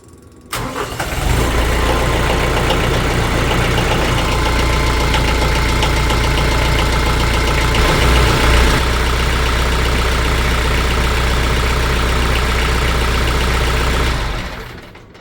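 A TYM T474 tractor diesel engine idles loud and close after an oil and filter change, starting after a moment of quiet and then holding a steady, rumbling knock for over ten seconds before it stops.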